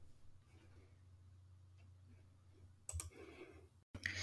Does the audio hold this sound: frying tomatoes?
no